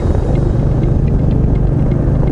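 A Royal Enfield Meteor 350 motorcycle engine rumbles loud and close as the rider drops down through the gears on an overcast UK road, a steady low throb without clear gear-change breaks.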